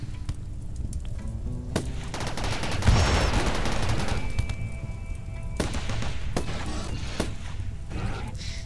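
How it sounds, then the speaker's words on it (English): A heavy charge blaster minigun in RimWorld fires in dense, continuous crackling bursts with sharp repeated reports, loud and sustained against a busy battle backdrop, no speech. "that's the heavy charge blaster in action"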